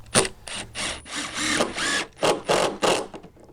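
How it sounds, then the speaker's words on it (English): A cordless driver sinks a screw into a wooden deck board, running in several short bursts of whirring and ratcheting with brief pauses between them, close and fairly quiet. "Get my screw in there."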